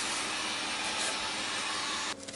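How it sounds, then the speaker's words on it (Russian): A heat gun blows hot air as it bakes a workpiece during a garden bench build, a loud steady roaring whoosh that cuts off abruptly near the end. "Запекаем все это с помощью строительного фена."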